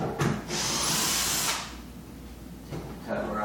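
A power drill whirs loudly for about a second, backing screws out of a cyclekart body cover, then a brief second burst starts near the end.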